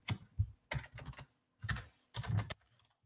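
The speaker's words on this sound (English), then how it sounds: "We can type that in as a filter," Quick bursts of keystrokes on a computer keyboard as a filter is typed, in short clustered runs separated by brief pauses, close and fairly quiet.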